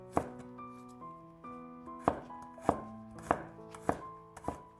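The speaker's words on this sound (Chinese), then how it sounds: "几瓣大蒜给它切成蒜片" A kitchen knife slices garlic cloves on a cutting board, about seven crisp, evenly spaced chops up close, over soft melodic background music.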